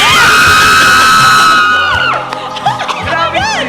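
A crowd screams and cheers loudly, with a sustained high shriek that breaks into scattered whoops and yells.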